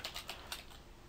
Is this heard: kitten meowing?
no